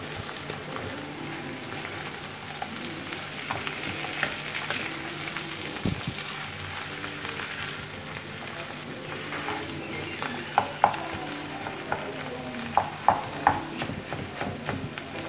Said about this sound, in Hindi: अब आप इसको थोड़ा थोड़ा हिलाते रहिए